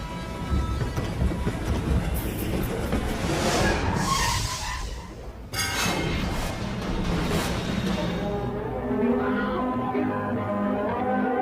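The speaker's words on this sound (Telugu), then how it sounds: "ట్రైన్ వస్తుంది." A train approaches and rumbles loudly nearby, its wheels clattering and rattling steadily, with a brief dip midway before the heavy noise surges on.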